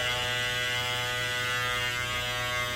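Andis GTX EXO cordless hair trimmer running steadily up close, a continuous electric buzz with a strong hum and bright harmonic whine, no talking.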